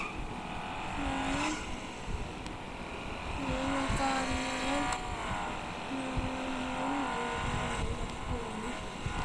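A car engine in a car simulator game drives forward, a steady moderate hum with rising and falling pitch as it accelerates, while a person talks over it.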